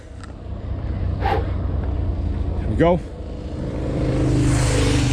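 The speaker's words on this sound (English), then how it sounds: "Oh, a couple of motorbikes." A couple of motorbikes pass along a road on a sunny day, a rising engine rumble swelling toward the end over steady background noise, with a brief spoken word and a whistling sweep mid-way.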